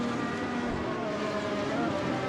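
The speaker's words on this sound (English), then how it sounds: "sound of these cars revving and high revving as they go past one of these camera stations" Formula 1 race cars in the Assetto Corsa racing game rev hard as they pass a trackside camera at the Helsinki circuit, a steady loud engine drone with high-pitched whine running throughout.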